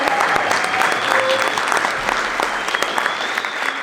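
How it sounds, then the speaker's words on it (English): Sustained applause from a crowd at a nonprofit advocacy breakfast, dense clapping that stays loud and steady throughout. "And with that big applause,"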